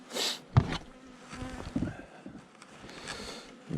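Bees buzz around a hive amid several sharp knocks and handling bumps, the swarm hum rising and falling close by.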